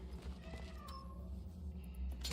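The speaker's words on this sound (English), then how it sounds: "I heard a cat!" Cat meowing in the horror video game Cronos: The New Dawn, a faint short meow rising over a low game ambience hum, quiet and brief amid background drone.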